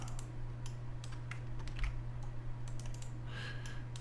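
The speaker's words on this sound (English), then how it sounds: "Left click and then right click" Sharp computer mouse clicks, a left click followed by a right click, during 3D modeling work at a desk, small and close against a steady electrical hum and low room noise.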